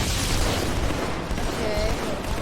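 A grenade blast in the video game Halo 2, a broad booming rumble that runs through the whole stretch with a player talking over it.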